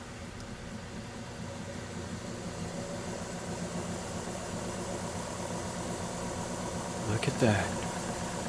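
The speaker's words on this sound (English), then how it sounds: "Start the motor." A motor wired to Hall effect sensors runs with a steady, faint whir that stays constant throughout, and a short spoken remark comes near the end.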